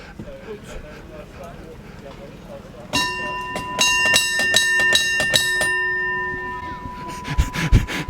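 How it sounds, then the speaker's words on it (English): The hand bell of a 1926 Dodge ambulance rings loudly in quick repeated clangs for several seconds, then a few more sharp rings follow after a brief pause. "So all they had to do was just ring the bell"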